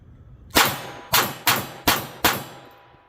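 A Taurus TX22 .22 pistol fires five sharp, ringing shots in quick succession, close and loud, each crack decaying quickly before the next, with no voices in between.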